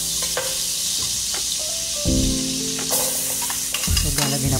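Margarine melts into hot, already-used frying oil with a loud, steady sizzle up close, along with a few soft clinks and stirring scrapes from a utensil in the pan.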